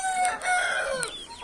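A rooster crows once, close and loud, in a rural yard, the call rising and then trailing off with a few clucks.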